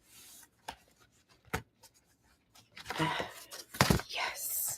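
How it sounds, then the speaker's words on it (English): Paper being creased and rubbed along the edge of a table, a few sharp crinkles and scraping rustles that grow louder toward the end, close by. "use the edge of the table here real quick and crease this top part"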